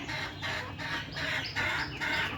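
A brooding hen sits on thirteen eggs in a backyard hatching setup, giving repeated close clucking calls in steady bursts, with other chicken sounds mixed in and no talk.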